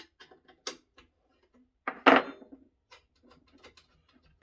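Bolts being undone on a 5 inch gauge model steam locomotive during stripping: scattered faint metallic clicks and ticks of a spanner, with one louder rattling clatter midway, in an otherwise quiet workshop.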